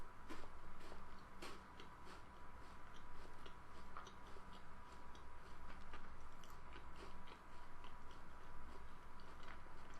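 Biting and chewing a thick Drifter chocolate bar with chewy caramel, heard as a steady run of close, crisp crunches and moist chewing clicks throughout with no talking.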